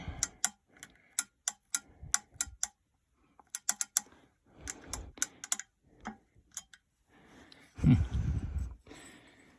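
Metal gears of an International Harvester (IH) cream separator clicking and catching as the hand crank is turned, a rapid run of sharp ticks in bursts, then a louder grinding clunk as they nearly engage, heard close with no talk.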